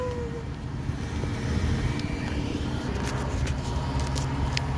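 A ground shuttle ride at the Diggerland family theme park runs with a steady low motor rumble and rattle, joined later by faint higher clatters and squeaks.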